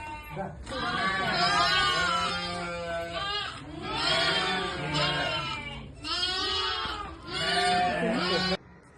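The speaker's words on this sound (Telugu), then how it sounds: "దొడ్డి దగ్గర గొర్రెలను కొట్టుకొచ్చినాము." Several sheep bleat loudly and repeatedly in a pen at dusk, with overlapping, wavering calls that carry on almost continuously and sound close by.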